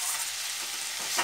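Onion flower stalks being stirred in a pan with a pinch of coriander powder, a soft steady frying hiss with light stirring scrapes throughout, close and fairly quiet.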